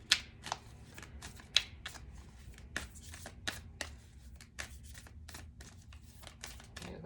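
A tarot deck is shuffled by hand close by, making crisp papery riffles with sharp flicks and taps that repeat irregularly for about seven seconds. No one speaks.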